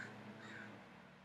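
Crows caw faintly and at a distance, a couple of rough calls over quiet background hiss.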